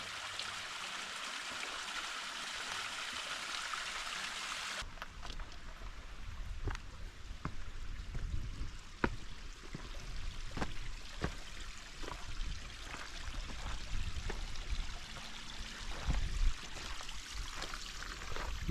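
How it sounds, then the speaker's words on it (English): A small waterfall spills at the foot of a rock bridge on a mountain rim trail, a steady rushing pour with scattered splashy drips, fairly close and continuous with no voices. "Little waterfall just right at the foot of the bridge."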